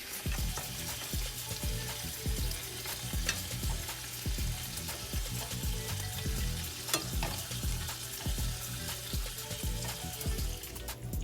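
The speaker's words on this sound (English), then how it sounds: "I'm going to start sauteing my onions by putting butter in a pan on medium heat" Butter sizzles in a skillet on medium heat, a continuous close crackle and hiss with frequent sharp pops and occasional utensil knocks against the pan, with no talking.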